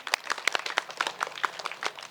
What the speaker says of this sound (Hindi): दोनों के लिए जोरदार तालियां